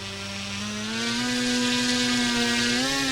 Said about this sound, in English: That's ridiculous amount of pitch for a little World War I biplane.